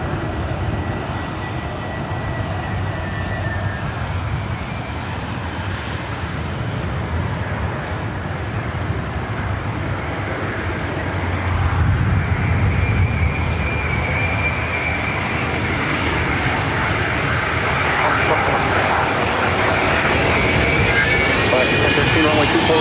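Airbus A330neo jet at LAX, a loud continuous engine roar that builds and brightens over about twenty seconds, with radio-style voices talking throughout.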